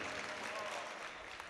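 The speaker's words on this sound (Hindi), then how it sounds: "जोरदार तालियों से इस्तकबाल करें" Audience applause at an All India Mushaira poetry gathering, a steady dense wash of clapping that holds throughout, moderately loud and fairly even, with no clear voices on top.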